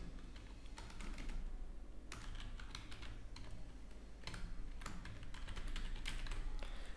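An email address is typed on a computer keyboard in quick, uneven bursts of clicking keystrokes with short pauses between, close and fairly quiet, and no one speaks.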